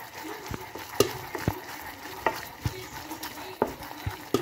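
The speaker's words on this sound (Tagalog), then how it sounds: "So, haluin lang natin siya ng kaunti." Caramel popcorn stirred in a pan, with soft scraping and rhythmic knocks about every half second over a faint sizzle.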